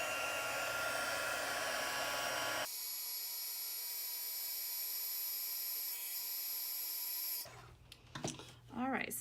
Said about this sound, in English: let's get our heat tool and go ahead and emboss this